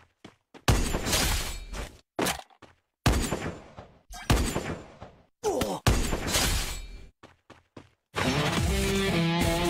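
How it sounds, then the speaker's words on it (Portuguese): Gunfire in the Free Fire mobile game comes in short separated bursts of sharp shots and crackling impacts, loud and close, with gaps of near silence and a sustained tonal effect at the end. "Ele tá atirando em mim."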